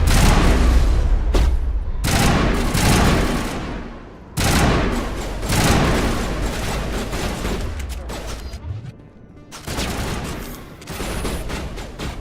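Loud bursts of rapid gunfire with booming impacts in the video game Mass Effect, firing in dense volleys separated by short pauses.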